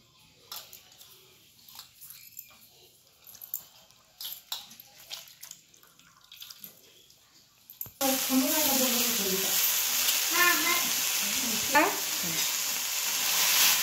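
Ambadi (roselle) leaves hit hot oil in a pan and start sizzling loudly midway, after quieter kitchen handling sounds, with steady frying crackle continuing to the end.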